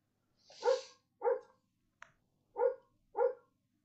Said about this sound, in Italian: Lui abbaia, vicino e lui abbaia.